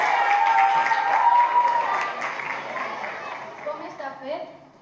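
An audience at a school children's event bursts into loud applause, full clapping that gradually thins and fades, with voices and cheers mixed in.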